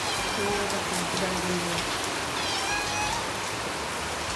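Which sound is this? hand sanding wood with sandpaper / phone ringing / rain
rain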